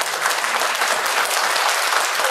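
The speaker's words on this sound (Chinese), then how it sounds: "咱是不是再次掌声给咱祝福一下？" Guests at a wedding clap for the bride and groom, a brief burst of dense, lively applause that holds steady from start to finish.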